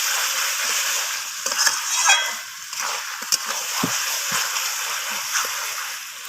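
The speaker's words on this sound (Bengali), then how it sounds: "লবণটা দিয়ে আমি আবারও কষিয়ে নিচ্ছি।" Chicken curry being stir-fried with salt, a loud continuous sizzle with repeated spoon scrapes and knocks against the pan, close by.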